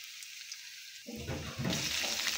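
Oil heating in a cooking pan for picadillo: a second of near quiet, then a sudden soft sizzling hiss that builds and holds.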